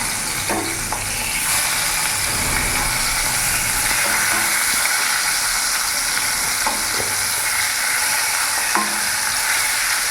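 Rohu fish pieces fry in hot oil for a curry with potato and cauliflower, giving a loud, steady sizzle throughout with a few light clinks of a utensil against the pan.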